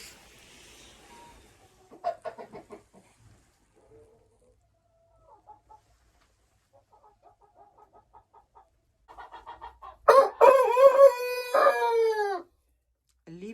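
Chickens and a Livenskaya calico rooster in a henhouse: scattered soft clucks and rustling, then a loud drawn-out crow near the end, close by.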